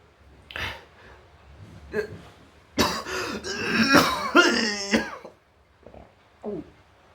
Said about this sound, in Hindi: बहुत बहुत खांसी है, तो वो नजर आना चाहिए।